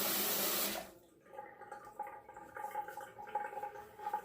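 Water poured into a sink to rewet a shaving brush for lather, a brief loud rush of running water that cuts off, followed by soft wet splashing and swishing close by.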